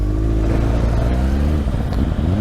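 A Honda Hornet's four-cylinder engine runs close by, heard from another motorcycle riding behind it, a steady mid-pitched hum with shifting revs and a brief rise near the end.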